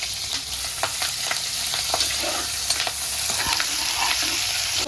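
Onion and curry leaves frying in hot oil for a chicken dal gosht, a steady close sizzle with scattered crackles and occasional stirring scrapes throughout, no talk.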